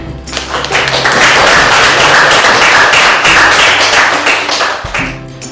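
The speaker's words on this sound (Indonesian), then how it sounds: "kita kasih aplaus untuk semuanya" A classroom of students claps for group presentations, with loud, dense applause that swells quickly, holds steady for several seconds, then tapers off.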